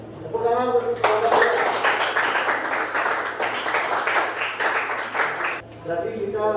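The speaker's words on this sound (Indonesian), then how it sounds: "Tepuk tangan untuk kelompok." Applause from a classroom audience for a presenting group during an academic coaching session, a steady dense clatter of clapping lasting several seconds, starting abruptly and fading out as talk resumes.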